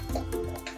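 A brief wet pour of no-bake chocolate orange cheesecake mixture, with dripping, gurgling splashes close by and no voices.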